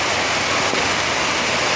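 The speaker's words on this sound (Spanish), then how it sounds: "Arrecia la lluvia en Siloé" Steady, dense wash of rain pouring down in Siloé, Cali, Colombia, a constant broadband hiss with no breaks or distinct drops, loud and close.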